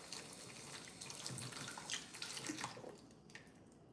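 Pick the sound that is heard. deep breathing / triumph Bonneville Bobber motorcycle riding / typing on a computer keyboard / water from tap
water from tap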